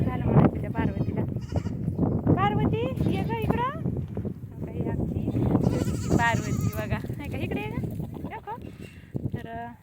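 Goats bleat repeatedly, several wavering calls close by, mixed with people talking over them.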